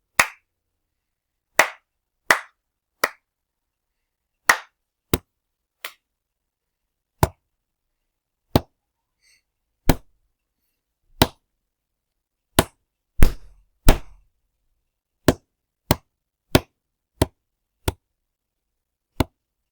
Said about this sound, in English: I just tapped or clapped or stamped the whole rhythm